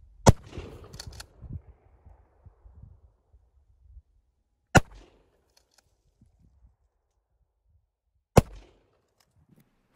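A pistol-grip shotgun fires slugs at a target 20 yards away: three sharp, loud blasts spaced about four seconds apart, each followed by a brief echoing tail, with no talking.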